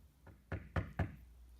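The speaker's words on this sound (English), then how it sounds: "Aren't you gonna answer the door?" Four firm knocks on a door, a light tap followed by three heavier thuds in quick, even succession, close and alone in a quiet room.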